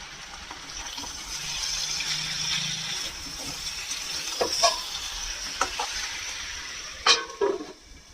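Potatoes and fish sautéing in a pan with spices give a steady close sizzle, with a few clinks and scrapes of stirring near the end and no voices.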